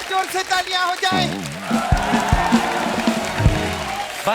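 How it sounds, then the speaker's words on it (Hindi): Loud applause from a television comedy show's studio audience swells in right after a brief spoken line, a thick, sustained wash of clapping with a few louder claps, voices still audible beneath it. "और एक बार जोर से तालियां हो जाए"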